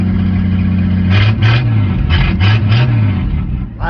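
Engine of an old pull-start truck running loud and close, a steady mid-pitched chug with a couple of blips that rise and fall in pitch before it eases down toward idle.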